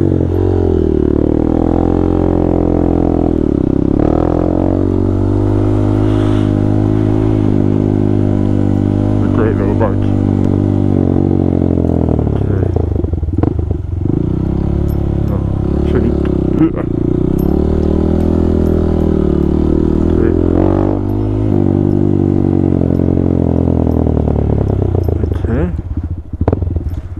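A Honda Grom motorcycle rides a green lane, its small engine droning steadily with shifts in pitch as it speeds up and slows. A rider talks over it almost the whole time.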